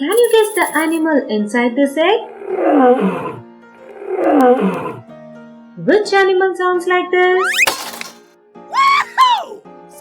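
A lion roaring, two long, loud growling roars set between stretches of a cheerful narrating voice over bright, playful sound effects.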